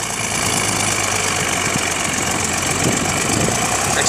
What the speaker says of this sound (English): And you can hear the tractor.